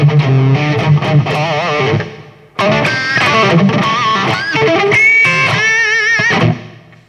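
A Fender Squier Stratocaster electric guitar with a scalloped fingerboard played through a heavier distortion effect, loud sustained notes and bent lines with a brief pause between phrases.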